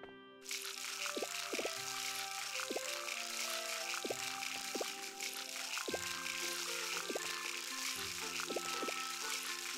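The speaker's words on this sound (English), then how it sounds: "I should stop watering it then." Watering crops with a watering can in Harvest Moon: Light of Hope, heard as steady trickling, pouring water with repeated chiming tones from game music or effects over it. No talking.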